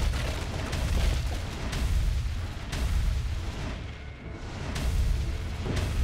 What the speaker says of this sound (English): we've got explodey things coming all over the place